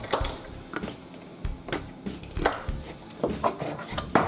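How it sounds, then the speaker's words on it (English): A slap chopper dicing celery in a bowl, heard as a quick series of sharp plastic-and-blade clacks in an irregular rhythm, close and fairly loud with no talking. "What I love about these slap choppers, they're so quick in chopping."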